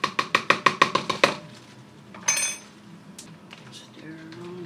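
Beef is stirred in a pan with a little garlic and cornstarch for beef broccoli: about eight quick, evenly spaced clinks of a utensil against the pan, then softer scrapes and scattered taps.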